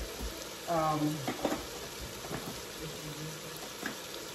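Seafood rice with shrimp and crab meat sizzles and fries in a pan, a soft continuous crackle with a few stirring knocks, while someone speaks over it.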